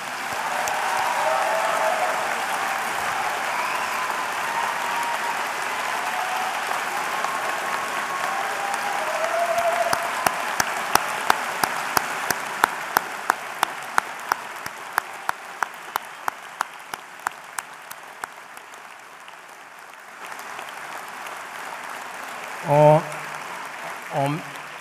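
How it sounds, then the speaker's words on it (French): Applause for graduating medical students with highest distinction at a 2014 proclamation ceremony, a sustained crowd clapping that thins into scattered individual claps and fades out, with a voice speaking near the end. "Nous pouvons maintenant applaudir tous ces étudiants qui ont obtenu la grande distinction."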